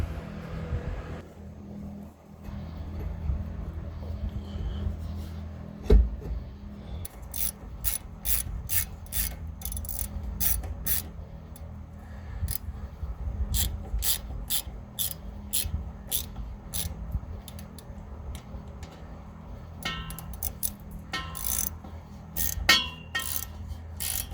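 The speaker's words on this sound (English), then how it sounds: "I'm down here putting the motor mount bolts in" Motor mount bolts being driven in from under a car, with repeated ratchet clicking in quick bursts and some metallic knocks over a steady low hum, close by and without talk.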